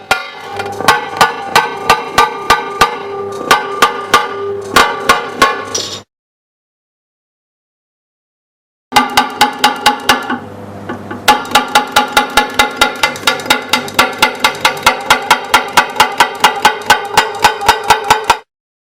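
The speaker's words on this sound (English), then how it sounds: "The impact force is increased by 2 to 3 steps and the cut opener is repeatedly used in all 4 corners." A cut opener taps along a score line in thick glass, giving sharp, evenly spaced clicks in a quick run, then a few seconds of silence, then a longer and denser burst of rapid taps.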